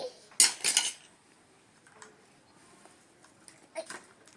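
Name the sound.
small spoons and bowls being handled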